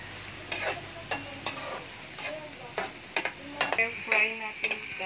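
Carrots, broccoli and sweet peas stir-fry in a pan with soft sizzling under repeated sharp clicks and scrapes of a utensil at an uneven rhythm, fairly quiet and close.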